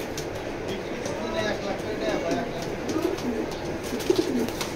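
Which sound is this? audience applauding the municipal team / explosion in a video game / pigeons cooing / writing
pigeons cooing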